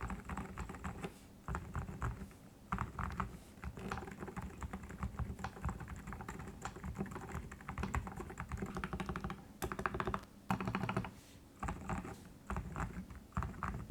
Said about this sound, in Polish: No i cichutko switche Silent robią swoje